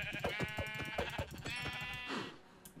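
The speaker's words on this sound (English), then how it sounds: "I actually don't want sheep. I should probably kill the sheep." Sheep in Minecraft 1.18 bleat repeatedly in a series of wavering, pulsing calls lasting nearly three seconds, fairly loud and close, with no talk over them.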